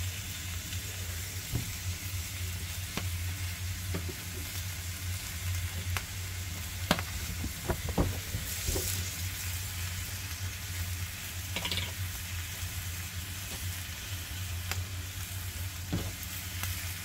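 Thick pork belly sizzles and crackles continuously on a heavy natural stone slab over a wood fire, a dense hiss with scattered sharp pops and spits, close and steady, with no talking.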